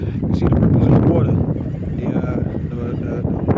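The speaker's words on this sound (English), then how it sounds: "It's windy out here." Wind buffets the microphone in a steady low rumble beside rippling water, with a person talking over it throughout.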